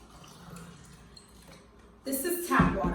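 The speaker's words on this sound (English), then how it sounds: "The first thing that we need to do is we would need to fill the glasses with water" Tap water pours into tall drinking glasses, starting abruptly two seconds in as a loud, steady rushing stream after a quieter stretch of faint room noise.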